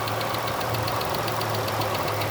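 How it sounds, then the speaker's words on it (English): A 3.6-liter V6 in a 2013 Dodge Caravan wheelchair van with 351k miles idles steadily with the hood open, a close, even low hum with a faint rhythmic ticking layered on top throughout. "Let me pop the hood here so you can listen to it run."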